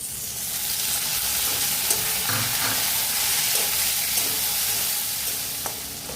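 Tomatoes go into a pan of frying onions and curry leaves for a bhetki fish curry, producing a constant, close, hissing sizzle with faint stirring scrapes.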